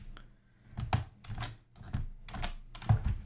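Keys tapped on a computer keyboard while writing C code, a short run of close, quick clicks in small uneven bursts, with no talking.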